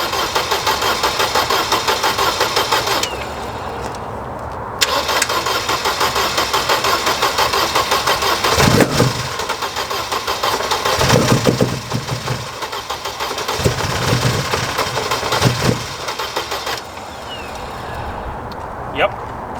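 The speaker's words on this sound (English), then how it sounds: "It's backfiring a bit." A Mercedes 190E 2.3-16 Cosworth engine, run for the first time in years, cranks and catches, then runs roughly with uneven surges and popping backfires, loud and close, while people talk over it.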